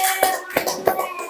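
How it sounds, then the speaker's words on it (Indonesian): A few scattered hand claps in a school classroom, three distinct sharp slaps spaced unevenly, with a faint background tone. "Tepuk tangan untuk kelompok Abu Bakar."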